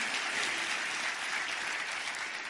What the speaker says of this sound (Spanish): Aplaudan, si van a aplaudir, aplaudan y aplaudan bien.